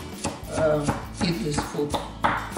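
Onion being cut into small pieces on a board, a run of knife chops in an uneven rhythm, close and fairly loud, with someone talking over it.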